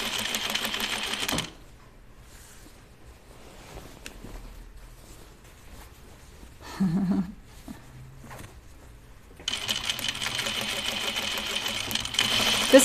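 A sewing machine with a Teflon presser foot stitches a zipper, whirring close at the start, falling quiet for a long stretch, then resuming its rapid clatter.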